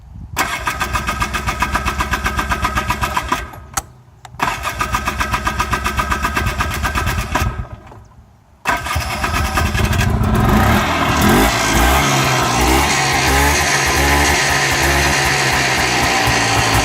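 1987 Polaris Trail Boss 4x4 ATV engine cranking with rapid starter whirs in two attempts, then catching and roaring loudly into revving and rough running, close up and without talk.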